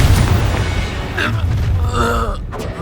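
A fiery Confringo explosion spell in Hogwarts Legacy, a loud booming blast with rumbling low end, followed by character voice effects and gasps over continuing battle noise.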